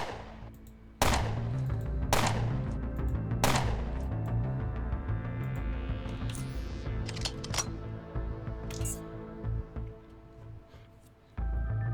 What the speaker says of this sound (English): let's move up a little bit, and we'll take some long-range shots